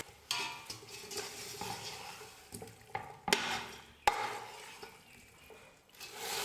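Mint and coriander are sautéed over a medium flame for mutton biryani in a pressure cooker, with a quiet sizzle under repeated spoon stirring and scraping and a few sharp metal clanks against the pot, without talk.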